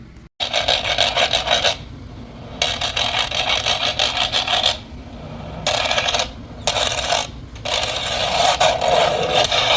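Antique washboard scraped fast with thimbles on the fingers, bursts of loud rasping, clattering metal strokes broken by short pauses, close and without voices.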